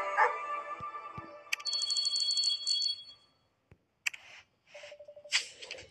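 A frightened puppy in the hidden-object video game Criminal Case gives a few short, high yipping barks, mixed with bright electronic game chimes and clicks, broken by a moment of near silence.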